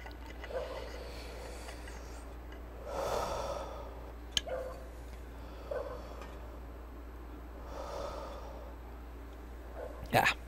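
Man catching his breath after a drink of water, several slow heavy breaths and exhales spaced a few seconds apart, close and fairly quiet over a steady low hum, with a sharp click and a louder breath at the end.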